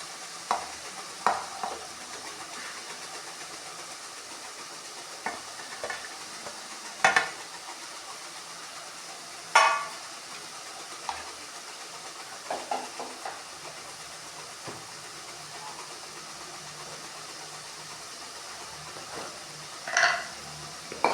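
Onion, garlic, cumin and fennel sauté in oil for a dried-fish thokku, a soft steady sizzle broken by occasional spoon scrapes and stirring clatters, close and without talk.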